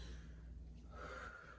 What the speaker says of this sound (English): take one big deep breath